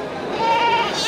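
Female goats bleat at the Bireuen livestock market, a short wavering bleat over a dense, noisy crowd background.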